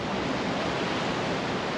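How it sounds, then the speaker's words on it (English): Ocean surf pounding the outer reef at a remote Tuamotu atoll anchorage, a steady, dense roar of breaking water with no pauses or voices. "The ocean is raging against the outer reef, coming in hard."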